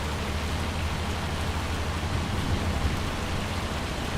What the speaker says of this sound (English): And there's the hail.